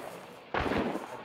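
A sudden sharp burst of Hunt: Showdown video game gunfire, two quick shots blending into a rumbling boom that fades out, heard alone after quiet.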